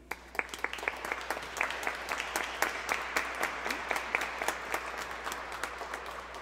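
A church congregation applauds a vocal quartet after Sunday Mass, a sustained round of many hands clapping with sharp individual claps standing out, moderately loud and reverberant, running for several seconds without speech.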